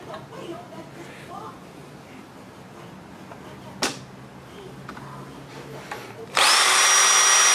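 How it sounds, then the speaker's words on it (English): A power drill with a 1/8-inch bit bores out an aluminum rivet on a Corsair Obsidian PC case. It kicks in abruptly near the end with a loud, steady whine after a quiet stretch with a single sharp click. "So we'll go ahead and drill this first one out."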